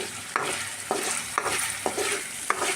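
Tamarind paste frying in oil in a pan, a continuous bright sizzle with a spoon scraping and tapping the pan at regular intervals, about five distinct strokes.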